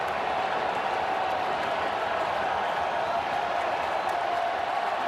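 A baseball stadium crowd at a Phillies vs. Cardinals wild card game keeps up a dense, continuous roar that stays even throughout.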